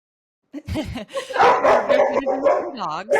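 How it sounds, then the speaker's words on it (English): Dogs at a coastal canine rescue in Northeast Florida bark and yip in quick bursts, mixed under people talking nearby. "you guys can expect lots of rescue dogs in the background"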